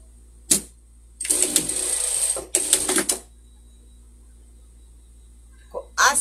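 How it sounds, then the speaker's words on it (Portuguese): A sewing machine runs a safety seam on a pet craft project in two short, fairly loud bursts of whirring stitching separated by pauses. "Agora a gente vai passar uma costura de segurança aqui"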